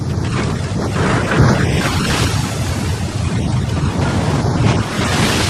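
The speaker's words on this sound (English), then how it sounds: "The cold gray boil of the waves wagging over our heads." Loud, continuous ocean waves churn and wash around a small 99-ton halibut boat at sea, with heavy wind buffeting throughout and no voices.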